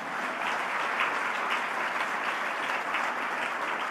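An audience applauds at a golf awards ceremony, a full, steady roar of many hands clapping that holds evenly throughout without a break.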